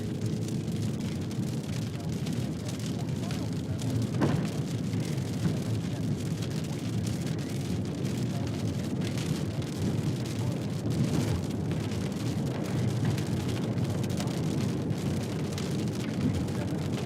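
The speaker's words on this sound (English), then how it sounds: "this storm's dying out" Dying thunderstorm in West Texas near Lubbock, with steady heavy rain and a continuous low rumble of thunder throughout, loud and close with no talking.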